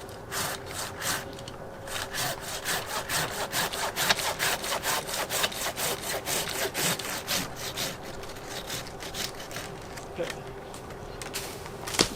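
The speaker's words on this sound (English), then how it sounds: "So now I have to make one more cut here to finish for this pruning cycle." A hand saw cuts through a tree branch during pruning, with rapid rhythmic rasping strokes that repeat steadily at moderate distance and quiet level, while a voice talks faintly underneath.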